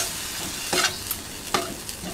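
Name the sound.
onions and green chillies being sautéed in oil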